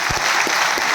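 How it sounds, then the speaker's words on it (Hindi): Audience applause at a motivational talk in Gwalior, a dense, steady wash of many hands clapping that fills the whole short moment at even loudness. "ताली बजा दो मेरे लिए।"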